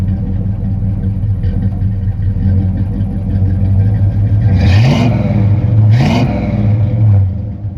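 A 1985 Chevy K5 Blazer 4x4 V8 with a single Flowmaster 40 exhaust idles with a deep, loud rumble, then is blipped twice in quick succession, each rev rising sharply and dropping back to idle.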